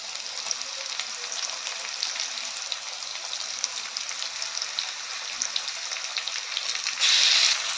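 Marinated chicken mince and chopped onions fry in a pan with a loud, steady crackling sizzle that runs the whole time, with a brief harsher burst near the end.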